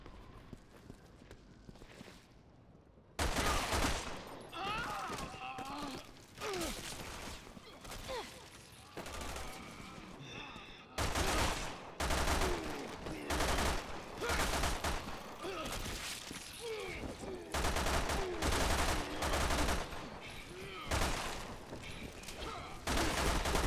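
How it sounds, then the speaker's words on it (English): Repeated bursts of gunfire from a Resident Evil 5 firefight come loud and broadband, separated by short gaps after a quieter opening, with volleys stacking up through the rest of the stretch. "We're gonna have to shoot our way out."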